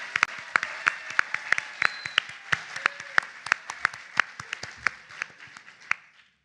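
Audience applause at an awards ceremony for students completing associate degrees: a steady crowd clapping with sharp individual claps standing out, sustained throughout, then tapering off at the end.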